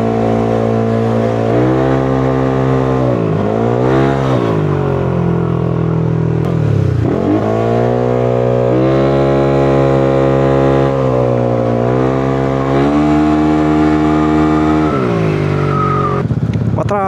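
Street traffic passing a rider on a Vespa scooter in Angeles, loud engine drones rising and falling with revving and shifting pitch, close and continuous with no talk.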